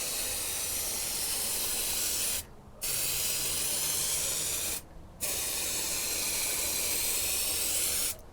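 Continuous loud aerosol spraying of 2K clear coat from a spray can onto a BMW E61 LCI headlight, in three long hissing bursts, broken by two brief pauses; close by.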